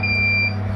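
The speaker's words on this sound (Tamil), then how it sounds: "இப்போ டோர் ஓப்பன் பண்ணதெல்லாம் உங்களுக்கு அலாரம் அடிச்சிட்ருக்கு" A chicken egg incubator's door-open alarm sounds a short, steady electronic beep close by, holding for about half a second over a low mechanical hum, with no talk.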